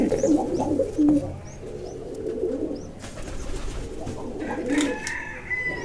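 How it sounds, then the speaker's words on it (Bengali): Pigeons coo repeatedly in a loft where birds sit on eggs in plastic nesting pots, low soft coos overlapping with a few higher chirps, steady and close throughout. "দেখতে পাচ্ছেন কবুতর দুইটা ডিম নিয়ে বসে আছে"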